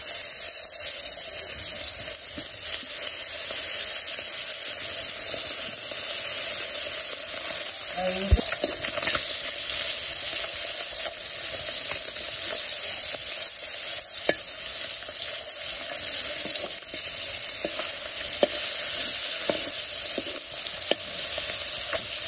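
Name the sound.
koi fish frying in oil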